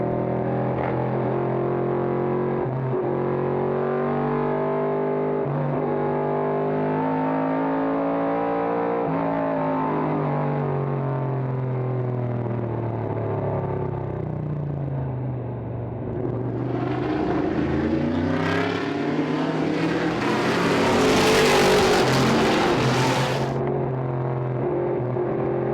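Vintage race cars, among them a 1971 AMC Javelin and a Mustang, roar past on a road circuit, with a steady loud engine drone, shifting pitch as cars accelerate, and a louder car sweeping close by near the end.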